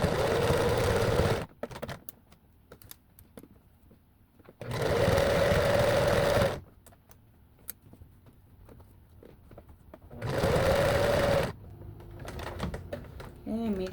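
Sewing machine stitching sweatshirt fabric in three loud bursts of steady whirring, each lasting a couple of seconds, separated by quieter gaps filled with soft handling noises.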